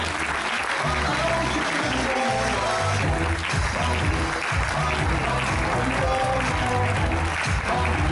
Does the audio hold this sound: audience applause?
yes